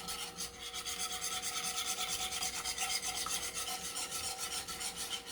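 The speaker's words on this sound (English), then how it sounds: "Just keep whisking." A whisk scrapes rhythmically through gravy batter in a frying pan, a fast steady rasping stroke repeating for several seconds, close and continuous with no talk.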